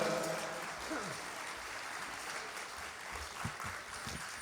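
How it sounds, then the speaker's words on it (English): An audience claps steadily in a broad, continuous wash of applause at a powwow after a fancy war dance, moderately loud and sustained throughout. "How about a round of applause for that, folks?"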